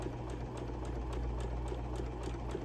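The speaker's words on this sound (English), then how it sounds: "I'll try to do my best to sew straight since I'm kind of sewing at an angle." A Juki computerized sewing machine stitches along the edge of purple vinyl, giving a fast, even, close mechanical chatter over a low steady motor hum.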